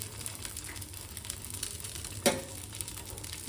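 Quiet, steady sizzling of an egg frying on a hot griddle, with a single sharp scrape or tap partway through.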